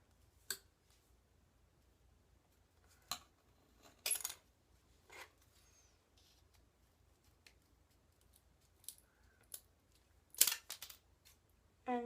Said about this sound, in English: You're going to want to cut the edges off.